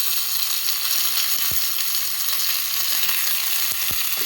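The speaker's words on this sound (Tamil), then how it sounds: "இப்போ இதோட நான் கொஞ்சம் கருவேப்பிலை சேர்த்துடுறேன். கருவேப்பிலை நெக்ஸ்ட்டு கொஞ்சம் பெருங்காயம்." Curry leaves and asafoetida crackle and sizzle loudly in hot oil with cumin for a tempering, a dense steady hiss broken by a few low thumps and pops close by.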